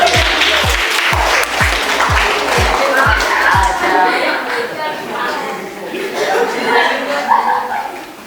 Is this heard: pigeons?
no